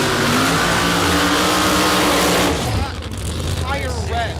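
A nitro funny car drag racing engine revs hard and steadily, then drops off, leaving quieter rumbling with a voice speaking over it.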